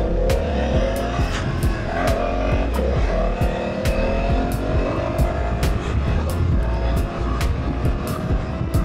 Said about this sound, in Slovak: Zvuk je príjemnejší, pretože je tu ten akrapový slipon